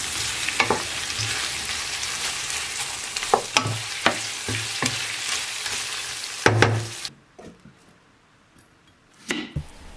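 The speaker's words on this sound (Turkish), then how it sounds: "İlave ettikten sonra 1 dakika kadar daha salça ile birlikte kavurdum." Food is sautéed with tomato or pepper paste in a pan, a steady sizzle broken by sharp scrapes and clinks of a spoon stirring, ending abruptly in near silence before one last clatter.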